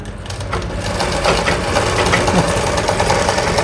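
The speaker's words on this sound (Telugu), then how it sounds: "ఇది కుట్టు లాగుతుంది మిషను" A sewing machine stitching a blouse lining runs steadily up close, a continuous loud whirring drone with a mechanical knocking rhythm and no pauses.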